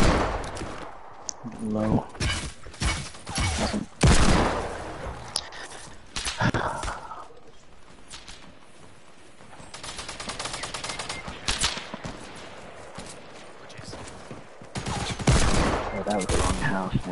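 Sniper and other gunfire in a shooter game, with sharp cracks and rattling bursts scattered over several seconds while players talk in between and over the shots.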